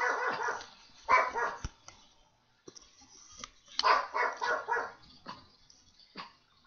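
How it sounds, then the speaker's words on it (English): A dog barking in the wind, with two bursts of rapid, close barks and some whimpering yips between them, alone with no talk. "The wind is so strong that Benny is barking."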